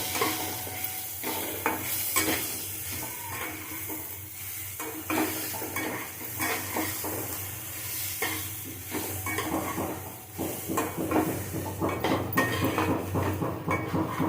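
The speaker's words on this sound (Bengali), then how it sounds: "ডালিয়াটা ভেজে দেবো ডালের সাথে আমি ডালিয়াটা ভেজে নেব" Broken wheat (dalia) and lentils stir-fried in a pan, a steady sizzle under repeated scraping and clinking of a spoon against metal, close and continuous with no talking.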